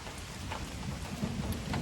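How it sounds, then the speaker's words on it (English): Steady rain falls on the Appalachian Trail, a dense constant patter and hiss with low rumbling underneath and a few louder drops, with no one speaking. "We're getting a good amount of rain today."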